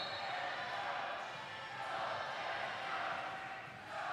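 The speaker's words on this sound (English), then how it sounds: "Crowd trying to create some noise." Spectators at a women's volleyball game make a steady, moderately distant roar of crowd noise in a gym, rising and dipping slightly, with faint voices mixed in.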